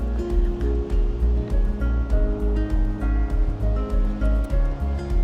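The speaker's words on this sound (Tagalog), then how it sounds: "Ganda pakinggan yung tubig," Water flows and splashes on a mountaintop near Purple Hill, a loud, close, continuous rush that pulses in uneven surges.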